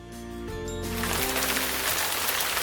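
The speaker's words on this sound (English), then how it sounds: "The rain fell all morning. It splattered on the pond and splashed on Farfallina's leaf." Rain splatters onto a pond, its dense hiss swelling in after a few seconds of soft music and then holding as a steady wash of falling drops.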